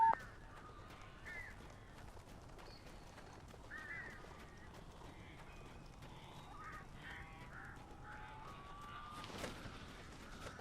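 Crows caw repeatedly at a distance over a low ambient rumble in the video game Alan Wake Remastered, with scattered faint calls and a louder burst near the end.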